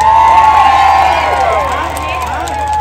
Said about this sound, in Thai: ปรบมือต้อนรับ